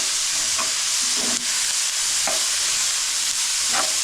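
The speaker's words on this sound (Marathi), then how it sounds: "तेलात कांदा परतून घेऊया मस्तपैकी" Onions frying in oil in a home kitchen for a Konkan-style black crab curry, a steady broadband sizzle with a few faint stirring scrapes, close and continuous with no talk.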